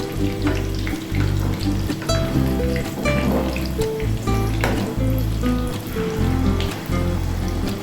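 Capsicum and corn malpoa batter frying in a pan, a steady close sizzle with soft bubbling crackle running throughout, loud and continuous with no talking.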